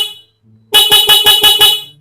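A car horn wired to sound intermittently blasts six quick, evenly spaced loud honks in a steady pulsing rhythm after a short quiet pause.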